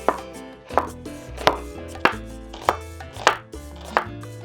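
A knife chopping a medium red onion into half-rings on a cutting board, about eight crisp, evenly spaced cuts, close and distinct over background music, with no talking.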